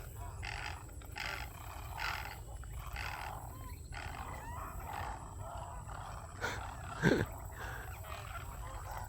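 Raucous wild birds call in repeated bursts outdoors at Alligator Lake Park, with a steady high drone behind them and a sharper rattling cry near the end.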